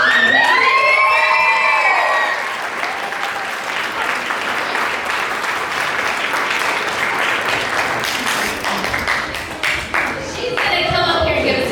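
A crowd at the Miss Owasso Pageant cheers, whoops and applauds loudly, with high children's shouts over dense steady clapping that swells again near the end.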